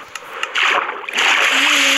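A video game character falls into water with a sudden splash, followed by a loud rushing, churning water sound that fills the rest of the moment, close and bright.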